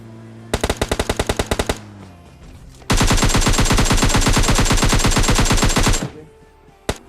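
Automatic gunfire rattles loudly in PUBG Mobile Lite, first a short rapid burst of about a dozen shots, then a pause, then a longer sustained stream of fast shots, with a lone shot near the end.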